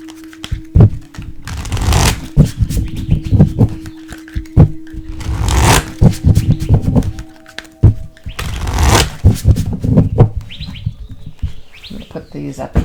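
Tarot and oracle cards are shuffled by hand in several bursts of riffling and slapping, close and fairly loud, separated by short pauses, with bird chirps in the background.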